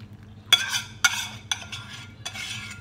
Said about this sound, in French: je mets mon beurre, je mélange